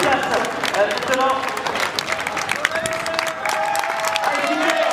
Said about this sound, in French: Applaudissements, mesdames et messieurs, pour la catégorie handisport.